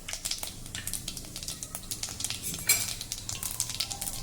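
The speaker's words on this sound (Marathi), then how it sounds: "हे तेल गरम झालं की यामध्ये जिरं मोहरी घालूया।" Cumin, mustard seeds and fenugreek seeds fry in hot oil for a tempering, giving a close, busy crackle and sizzle with scattered sharp pops and a few light metallic clinks of a pan.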